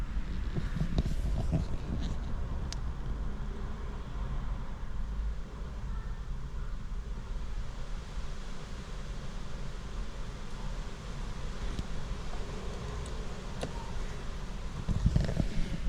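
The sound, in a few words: wind blowing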